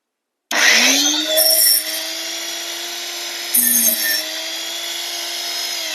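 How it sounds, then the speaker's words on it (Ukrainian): Saw chain sharpening machine grinding one side of a chain tooth, starting with a sharp onset into a steady high whining grind, with two brief harsher bursts of contact as the wheel bites the tooth. "Затискаємо і поїхали точити другу сторону зуба."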